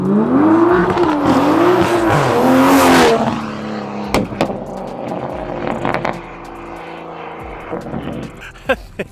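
A loud Toyota Supra with a B58 engine roars and revs for about three seconds, then cuts off, followed by scattered clicks and knocks.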